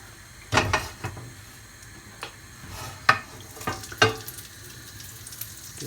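Butter heating in a frying pan gives a low, steady sizzle, broken by several sharp clicks and knocks of a utensil or pan. No one speaks.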